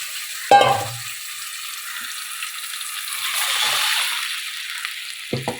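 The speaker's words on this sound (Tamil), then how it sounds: "சூப்பராக அரைச்சதெல்லாம் ஊற்றியாச்சு" Freshly ground masala paste is poured into a hot pan of spluttering mustard seeds for a South Indian fish curry. A sharp splash comes first, then a steady hiss of frying with occasional stirring taps.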